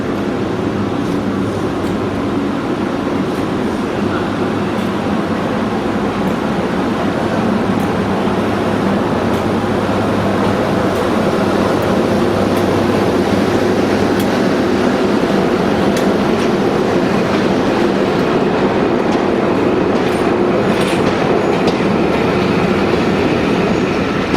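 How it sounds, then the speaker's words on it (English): Pastime's Edinburgh Flyer charter train runs past on a UK railtour, a steady, loud broadband rumble with wheel-on-rail noise and faint clatter that holds throughout with no talk. "here's Pastime's Edinburgh Flyer going the other way"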